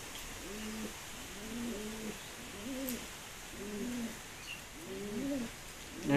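Pigeons coo in a steady series of about six soft, rounded calls spaced roughly a second apart, fairly close against a faint background hiss.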